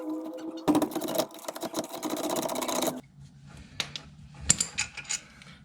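A ratchet cranks to break loose 15 millimeter bolts near a brake line, a dense fast clicking run followed by scattered metallic clanks and taps.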